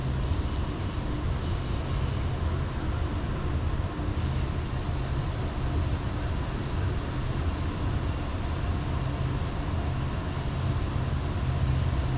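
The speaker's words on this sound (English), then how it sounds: "Another train coming." A steady, loud rumble of a train rolling past, with a constant broadband roar that holds without break from start to finish.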